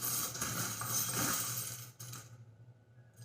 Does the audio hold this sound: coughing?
no